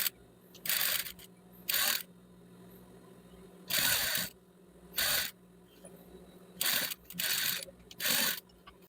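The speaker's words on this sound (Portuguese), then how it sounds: "E aqui eu vou dar um pezinho de máquina de costura." A sewing machine stitches fabric strips for a rug in short, loud mechanical bursts of about half a second to a second, repeating irregularly with brief pauses between runs, close up and with no talking.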